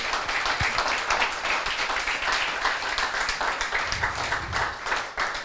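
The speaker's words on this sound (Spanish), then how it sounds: "Dele un fuerte aplauso a Jesucristo el Señor." A congregation at a church service claps loudly and continuously, a dense, lively patter of many hands that keeps going at a steady level.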